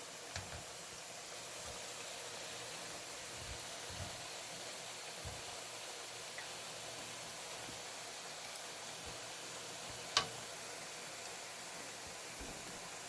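Pakoras fry in hot oil with a steady, even hiss and sizzle, close and continuous throughout, with a few faint clicks and taps from cooking utensils.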